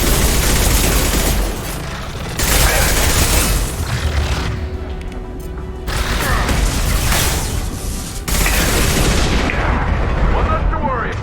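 Gunfire in the video game Mass Effect 2, with heavy blasts and bursts arriving in loud waves separated by brief quieter gaps, mixed with mechanical game effects and voices.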